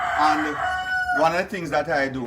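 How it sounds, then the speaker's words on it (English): Roosters crow loudly and repeatedly on a Kingston farm, with chickens clucking around them, while someone talks over the calls. "You might hear the roosters and the chicken in the background."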